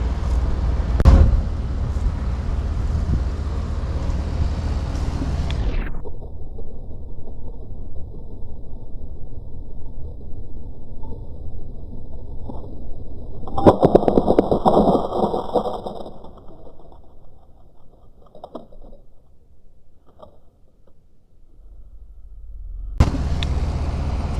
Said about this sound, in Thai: เสียงดังหน่อยนะครับผมเสียงเครื่องสูบน้ำเทศบาล